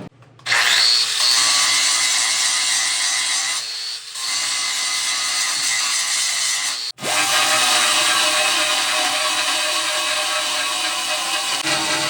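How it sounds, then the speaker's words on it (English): An angle grinder roughs out a hole in the bodywork of an auction-bought Mini, a loud, steady, close-up whine and grind that runs almost nonstop for about eleven seconds, broken only by a brief pause partway through. "So now I'm gonna rough this out with the grinder"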